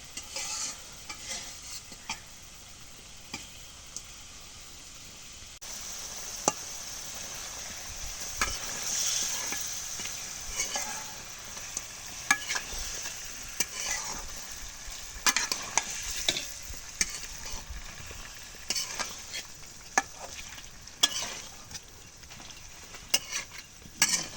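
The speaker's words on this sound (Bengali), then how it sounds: "মশলাটা কষানি হয়েছে এখন মাছ দিই" Hilsa fish fries in spiced masala with a steady soft sizzle, punctuated by scraping stirs and occasional utensil taps against the pan, heard close without talk.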